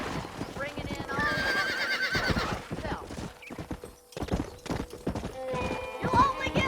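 Hooves clip-clop rhythmically while a horse neighs loudly, with people talking over the busy scene, in the video game Red Dead Redemption.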